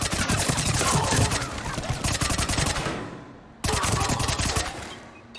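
Rapid automatic gunfire rattles in dense bursts in the video game Mass Effect 3 during a firefight, loud and close, with a brief pause before another burst.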